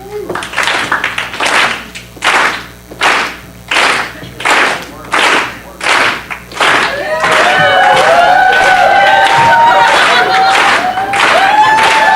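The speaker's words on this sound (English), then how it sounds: "If you could, please give me a nice clap of beat." An audience claps a slow, even beat, about eight loud unison claps, then the clapping blends into continuous applause and cheering with whoops and shouts.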